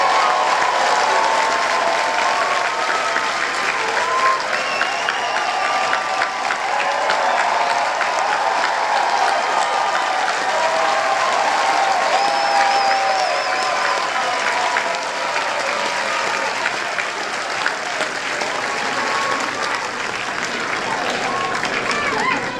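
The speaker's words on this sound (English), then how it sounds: "everyone in this room would gladly join me in an enormous round of applause" A large audience in a room bursts into sustained, enthusiastic applause honouring Quincy Jones, a dense wash of clapping with scattered cheers and voices that holds steady for over twenty seconds.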